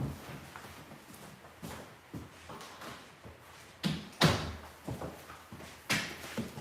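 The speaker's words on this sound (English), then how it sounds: "Let me close this door." Indoor door being closed in a home studio, a series of soft knocks and shuffling handling sounds building to a couple of sharper thumps near the middle, fairly close and moderately quiet, with no talking.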